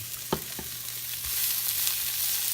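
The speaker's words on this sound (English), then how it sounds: "just give this one more stir, just to be safe" Garlic and oil sizzle steadily in a pan while a spoon stirs through it. A couple of soft knocks sound early on, and the frying hiss grows a little fuller toward the end, with no voices.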